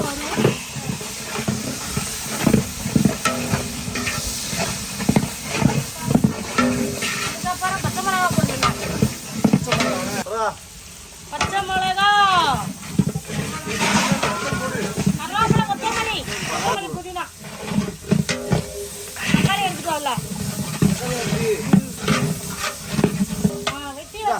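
Golden-brown onions fry in oil with biryani masala for a large mutton biryani, sizzling and hissing steadily up close while being stirred, under continuous talking.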